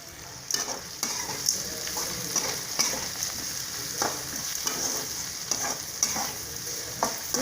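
Potatoes for a gram flour kurma are sautéed in a pan, with a steady close sizzle broken by repeated scraping strokes of a spoon against the pan.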